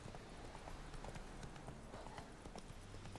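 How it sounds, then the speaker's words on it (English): Horse hooves clip-clopping in a quick, steady rhythm as the horse climbs a mountain in the video game Witcher 3, faint and continuous under low ambient noise. "Never thought I would scale up a mountain on a horse."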